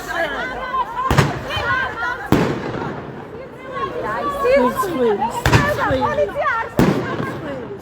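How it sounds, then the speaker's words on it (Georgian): A firework fired into the air during a street protest in Zugdidi, Georgia, with several sharp loud bangs cutting through steady crowd chatter and shouting. "მან ჰაერში დემონსტრაციულად გაისროლა ფოიერვერკი"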